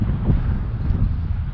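Strong gusting wind roars steadily across the microphone during a suburban ride on a Trek Dual Sport 1 hybrid bike, a dense low rumble with brief swells and no voices.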